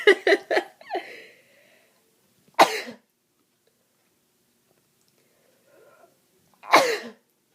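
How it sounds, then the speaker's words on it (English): A person sneezes sharply, then again a few seconds later after a brief sniff, with short breathy sounds in between and quiet pauses. "I gotta sneeze again"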